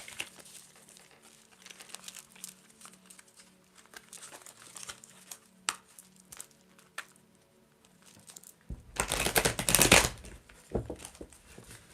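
A deck of tarot cards is shuffled close by with soft, irregular riffling and crinkling, ending in a louder burst of brisk card noise near the end.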